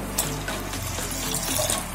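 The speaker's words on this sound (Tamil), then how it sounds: "ஒரு முக்கால் டம்ளர் தண்ணி ஊத்திக்கோங்க" Water poured into a large cooking pot for a coconut-milk kozhukattai dish, a steady close splashing gush that runs continuously for under two seconds with a shifting low tone as the pot fills.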